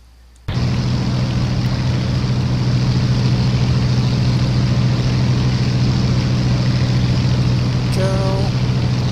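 A Messerschmitt Bf-109 engine in Flight Simulator X kicks in abruptly and holds a steady, loud, droning hum, with a low throbbing tone running unchanged to the end and a few faint beeps near the close.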